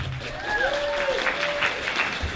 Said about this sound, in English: everyone, round of applause for Avani.